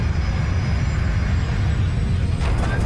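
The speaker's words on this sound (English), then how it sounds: "the 4th engine roars back to life" A four-engine airliner's engine roars back into life at high altitude, a loud, continuous broadband rumble and rush that stays steady for a few seconds, with a faint rising whine near the end.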